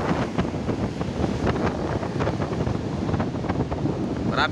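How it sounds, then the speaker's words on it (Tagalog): Big waves and strong wind batter the shore, a loud continuous roar of surf with gusts buffeting the microphone and surges of crashing water throughout. "Sobrang laki ng alon ngayon."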